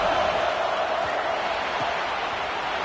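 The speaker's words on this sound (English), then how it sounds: "here comes the noise. This crowd is trying to inspire this defense to make a big red zone stop." Fans at a Miami versus Notre Dame college football game in overtime keep up a steady, roaring stadium din as the defense tries for a red zone stop, a dense wash of crowd noise sustained throughout.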